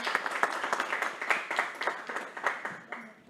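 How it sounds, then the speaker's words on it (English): Audience applause at the end of a class on regulatory aspects of water and sanitation infrastructure in Brazil, a steady patter of many hands clapping close by that fades out over a few seconds. "I think that we owe to them an applause because they contributed a lot."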